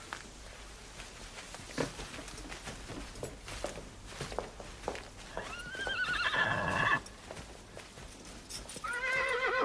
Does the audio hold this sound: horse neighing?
yes